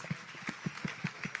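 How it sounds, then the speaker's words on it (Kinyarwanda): Applause for the singers and musicians at a church gathering: faint, steady, rhythmic clapping in an even beat, heard from a distance. "reka tubaha amashyi menshi abaririmba abacuranzi"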